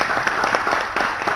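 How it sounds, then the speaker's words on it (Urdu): Studio audience applauding on a televised quiz show, a dense burst of clapping with a few sharper individual claps standing out, fairly loud and continuous. "تالیاں بنتی ہیں ان کے لیے."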